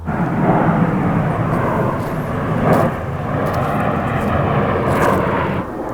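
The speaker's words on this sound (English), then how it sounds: "You're in the middle of a forest and there's a plane right above you." A steady, loud roar of an airplane engine passes overhead in a forest, a broad rumbling drone that holds throughout.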